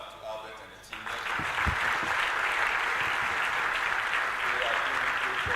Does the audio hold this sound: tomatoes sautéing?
no